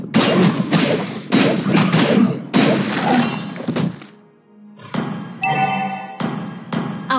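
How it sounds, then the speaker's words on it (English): A turret gets destroyed in the mobile game Mobile Legends with heavy crashing thuds and shattering impacts, then a brief lull before bright metallic crashes and ringing chime-like tones, loud and punchy. "Our turret has been destroyed."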